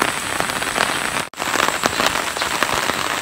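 Steady rain falls on a hard surface in daytime, a dense continuous patter with occasional louder drops and a brief drop-out midway, no voices.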